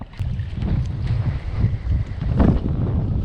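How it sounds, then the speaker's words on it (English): Strong gusty wind buffeting the microphone outdoors at a fishing spot, rumbling low and swelling louder near the end, with no speech. "I just like lost my balance getting blown off by this freaking wind"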